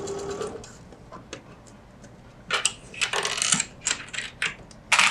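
A sewing machine stitches a zipper pouch in short bursts of rapid mechanical chatter, with clicks and small knocks in the pauses between runs.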